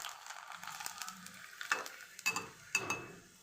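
A fasting papad frying in hot oil, a soft sizzle with occasional metallic clinks and scrapes of a utensil against the pan, faint and close, with no talking.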